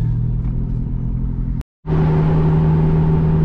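A Honda Civic EK hatchback, a junkyard car, runs at steady loud engine drone as it heads for the freeway. A short gap of silence breaks the sound, then the engine hum resumes at a higher, smoother pitch, with no talking.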